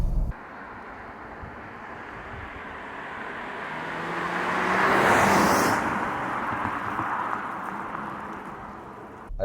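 A Genesis G70 Shooting Brake diesel engine revs toward the red line, rising to a broad roar near the middle and then falling back, heard at moderate loudness with no voices.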